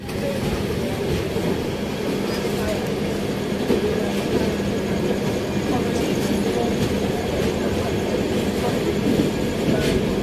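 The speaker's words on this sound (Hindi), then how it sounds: "चित्तौड़गढ़ से ट्रेन निकल चुकी है।" Mewar Express passenger train pulling out of Chittorgarh station in India, a steady loud rumble of wheels and carriages with faint clatter running throughout; a voice can be heard faintly beneath.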